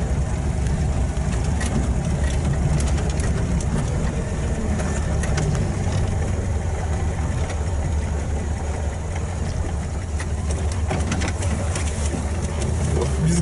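A UAZ 469 fitted with a ZMZ V8 engine and twin Solex carburettors idles steadily, a continuous low rumble running unbroken throughout with faint background noise.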